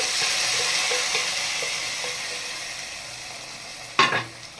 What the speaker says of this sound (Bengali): এই যে আমি পাঁচফোড়ন দিয়ে বাগার দিতেছি